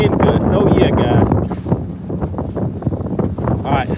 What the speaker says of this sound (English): I see you are in a wind gust.